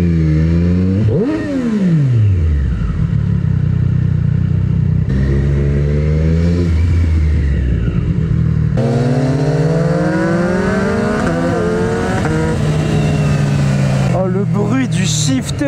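A Triumph Street Triple 765 RS motorcycle revs hard through rapid quickshifter upshifts, pitch climbing and dropping in quick steps, loud and close with constant wind rush.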